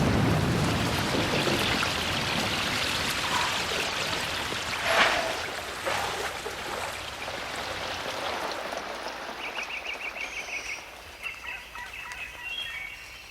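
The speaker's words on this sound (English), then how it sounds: "It will rain almost every day for the next 4 or 5 months." Steady rain hisses down continuously in the Amazon rainforest during the rainy season, with scattered drips and a few faint bird calls coming through toward the end.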